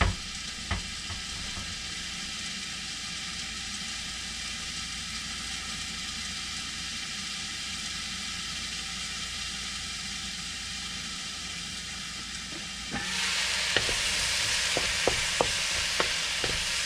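Stir fry sizzling in an electric wok, a continuous close hiss that surges louder near the end with a few sharp utensil clicks and stirring sounds, no voices.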